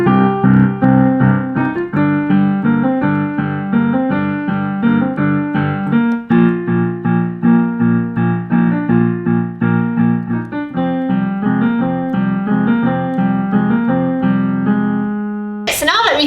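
Solo piano plays a flowing melody over steady repeated accompaniment notes, clear and close, with a short noisy click right at the end.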